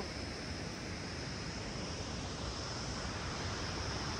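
A mountain waterfall pours down beside a road on the Darchula to Napalchu route, heard as a constant, even roar of falling water with no break, moderately loud and with no talking.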